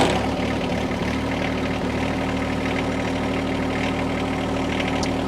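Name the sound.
John Deere tractor engine starting and idling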